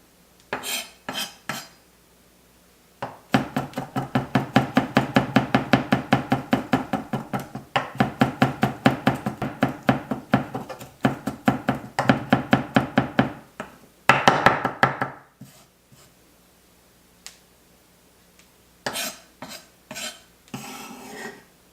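A knife mincing vegetables for cucumber kimchi chops rapidly and steadily on a board for a long stretch, a dense rhythmic tapping, then pauses and resumes briefly.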